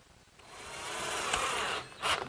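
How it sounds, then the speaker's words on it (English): A wood router fitted with a collar, bit and template cuts hinge mortises in a hall seat, giving a steady whining buzz that swells and holds, then surges briefly near the end, with no voices. "that makes it very easy to cut these mortises"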